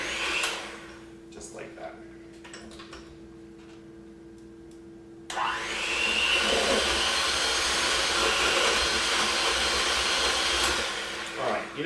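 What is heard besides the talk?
electric mixer running on slow, mixing banana bread batter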